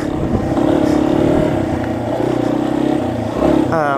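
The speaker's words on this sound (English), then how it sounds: "single overhead cam, air cooled, oil cooled bike, and this engine really comes from a different era in some ways" A 250cc air- and oil-cooled single overhead cam dual sport motorcycle engine runs close by, holding a steady throbbing idle with slight rises in revs and a quick blip near the end.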